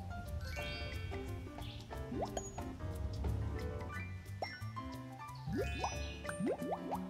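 Water drips in a video game level of The Peanuts Movie: Snoopy's Grand Adventure on Wii U, a scattered series of clear plinking drops with gentle liquid echoes, soft and steady throughout.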